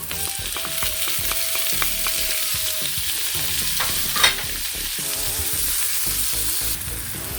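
Ginger and tomato sautéed in oil for a sardine and patola miswa dish sizzle steadily up close, with utensil scrapes and stirring clatter and one brief louder clank midway.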